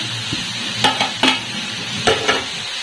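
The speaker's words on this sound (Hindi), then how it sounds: "मैं इसको भी अच्छे से मिला लूँगी सभी मसालों के साथ।" Momo soup mixture with spices is stirred in a hot pan, a soft sizzle running underneath while a spoon scrapes and clatters against the metal in a few distinct strokes.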